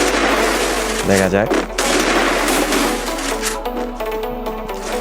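Desert Eagle pistol shots in a shooting video game crack out as sharp, loud bursts in a custom match, with a short run of shots near the start, while someone talks over the game sounds.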